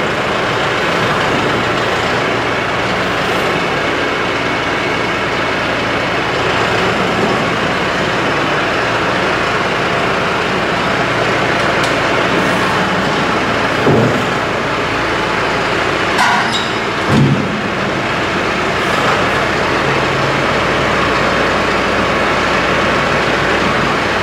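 A GMC 2500 pickup truck's engine running as the truck pulls forward, a loud, steady low rumble throughout with a couple of brief knocks and clunks partway through.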